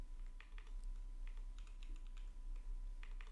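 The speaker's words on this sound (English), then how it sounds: "just press enter and then begin typing background" Light, quick keystrokes on a computer keyboard come in short uneven bursts, faint and close, over a steady low hum, with no one speaking.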